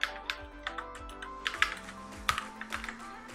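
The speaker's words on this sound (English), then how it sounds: "Now type text here" Keys clack on a computer keyboard in quick, uneven bursts of typing, close and crisp, with no voices over it.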